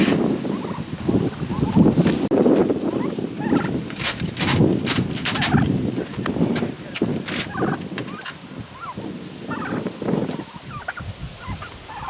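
Turkeys gobble repeatedly in loud, rapid bursts close by, several birds calling over one another.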